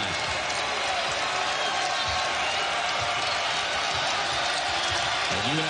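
A college basketball crowd in a packed arena, Northern Iowa against Drake, roars steadily as fans rise to their feet cheering, a dense wash of noise with a commentator talking over it.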